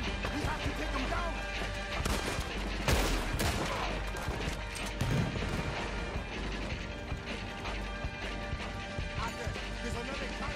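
Rapid clattering bursts of gunfire in Red Dead Redemption 2 over a dense, noisy battle mix, with a heavier crash near the start and steady mechanical rattling throughout.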